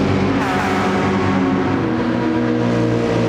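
Porsche GT3 race cars running nose to tail in a line, a steady loud engine drone with layered harmonic whine and gear shifts, close and continuous, with no talk over it.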